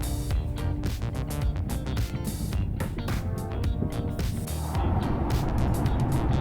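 A 2019 Mazda 6 sedan with a SkyActiv-G automatic cruises along a highway at 100 km/h, heard from inside as a steady engine and road drone with rhythmic thumps, and the tire noise roughens near the end.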